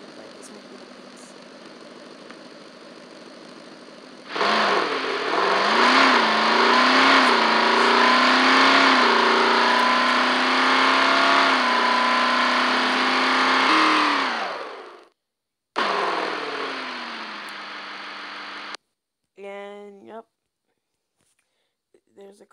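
A Ford GT engine in a racing video game revs loudly for about ten seconds, its pitch rising and falling, then cuts off, followed by a few shorter bursts and brief quieter sounds.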